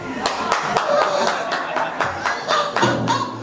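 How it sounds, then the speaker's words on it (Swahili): A church congregation claps during a sermon in sharp, rhythmic bursts of hands struck together in a steady beat, with people talking and chuckling underneath. "mzee piga makofi"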